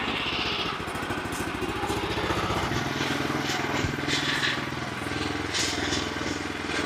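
A power tiller engine runs continuously as the machine turns in place on its clutch, a loud, close, steady chugging drone throughout with voices faintly mixed in.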